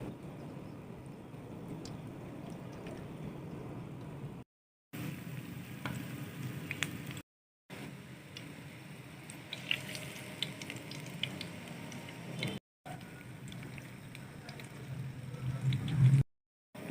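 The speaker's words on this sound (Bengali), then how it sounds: "এখন বেসনে ডুবিয়ে তারপর আমি এটা ভেজে নিব।" An egg and potato chop dipped in gram flour batter fries in hot oil with a steady, close sizzle. The crackling runs continuously with short breaks, and no one speaks.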